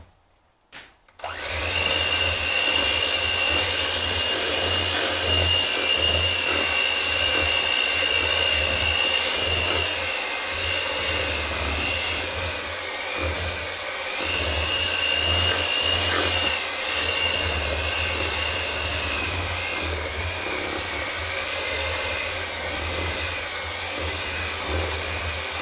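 A steady electric mixer whirs continuously while blending cookie dough with all-purpose flour, a loud motor drone that holds evenly for over twenty seconds after a brief click at the start.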